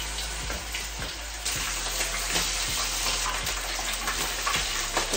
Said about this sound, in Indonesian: Oke guys, langsung aja kita goreng.